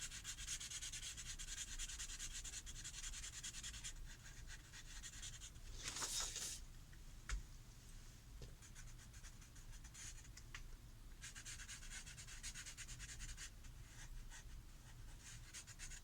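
Pencil shading on a large sheet of paper, a steady dry rubbing scratch that runs continuously at close range with small variations in stroke, alone without talk.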